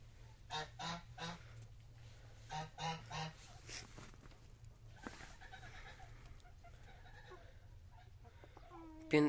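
Farm birds call in the distance, an American-breed rooster and two hens, a few honking, clucking bursts in small clusters over a quiet background, with a faint voice near the end.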